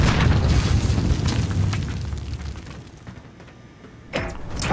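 A loud video-game explosive detonation booms at the start of a team objective match, its heavy low rumble decaying over several seconds before a fresh burst of noise near the end.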